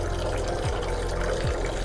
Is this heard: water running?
yes